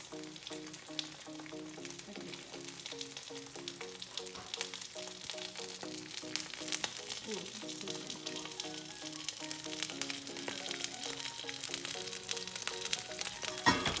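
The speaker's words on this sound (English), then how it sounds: "now I'm placing the plate in the sink and you can watch as it sizzles." Steady, crackling sizzle of a hot plate placed in a sink, like hot metal hissing against water, continuing without pause at low volume.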